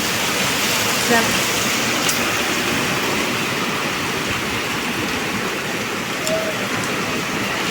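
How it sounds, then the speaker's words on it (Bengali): Heavy monsoon rain pours down steadily on Rath Yatra day outside a flat, a loud, unbroken hiss that fills the whole scene. "দেখো কি জোরে বৃষ্টি এসছে"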